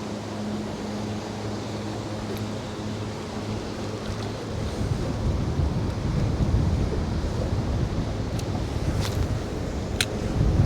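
Wind blows across an open spot where someone is fishing, a steady broad rush that swells into stronger gusts partway through, loud and continuous with no talking.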